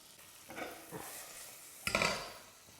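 Rhubarb drops into a pan already holding brown sugar and a little butter, giving a few soft stirring and scraping bursts with faint sizzle, then a louder clatter and sizzle near the end.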